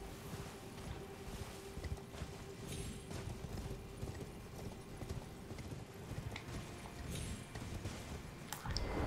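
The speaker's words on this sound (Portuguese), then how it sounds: "quando você está com o cavalo em movimento e você tenta descer dele, o cavalo continua andando um pouquinho" Horse hooves in the video game Elden Ring clop in a steady walking rhythm, repeated hoof strikes fairly close over a quiet ambient bed, with no talking.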